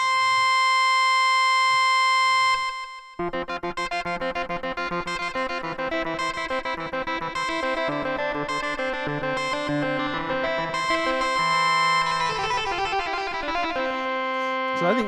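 Bright Uber Synth iPad synthesizer lead playing sustained tones with portamento off, then a rapid sequence of notes with a buzzy, piercing timbre, loud and alone.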